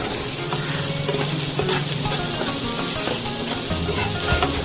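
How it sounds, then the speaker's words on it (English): Chopped onion frying in hot oil with spluttering mustard and cumin seeds gives a close, steady sizzle with small crackles and pops throughout a short stretch, without speech. "Once they start spluttering, add chopped onion and cook them for 1 to 2 minutes."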